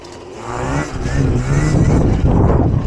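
A custom 72V electric Razor pit bike whines up in pitch as it accelerates into a wheelie, close and loud with a rising motor tone over rustling noise.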